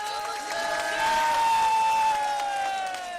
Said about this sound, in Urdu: آؤ بھئی, اس کو ایک دفعہ اس کے لیے تالی بجا دو